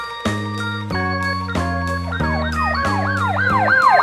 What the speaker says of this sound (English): Police car.